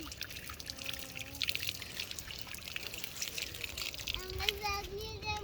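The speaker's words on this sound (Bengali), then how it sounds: "এবার হালকা পানি দিয়ে দেবে" Water trickles and pours in short uneven splashes onto a potted lemon tree, fairly faint, with a voice and other talking underneath.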